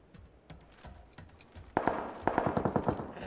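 Gunfire in the battle royale video game PUBG: a few faint shots at first, then loud rapid bursts of automatic fire rattling off in quick succession, with no speech.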